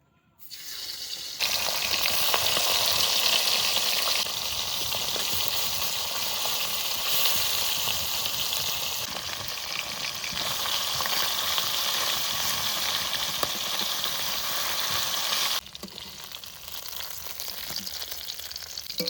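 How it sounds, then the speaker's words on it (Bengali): Fish frying in hot mustard oil in a wok, a loud continuous sizzle and crackle that starts abruptly and carries on steadily, with a brief dip near the end. "এবার মাছ ভেজে নেব কড়াই গরম হয়েছে এবার সর্ষের তেল দিয়ে দেবো"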